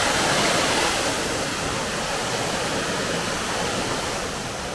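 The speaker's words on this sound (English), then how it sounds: "You see the wind kind of blowing the water as it splashes at the bottom." Minoo Falls near Osaka roars steadily as water plunges and splashes into the basin below, a loud, continuous broadband rush with no voices heard.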